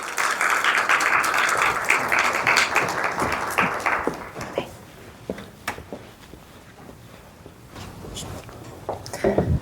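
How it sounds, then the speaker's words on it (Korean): Warm applause from an audience at a prenatal class, dense and loud for about four seconds, then fading into a few scattered claps, shuffling and small knocks in a quieter room. "큰 박수 부탁드리겠습니다."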